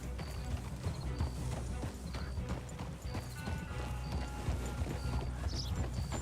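Horse hooves clip-clopping steadily at a ride in Red Dead Online, a continuous rhythmic patter close up with an occasional snort or whinny, no talking.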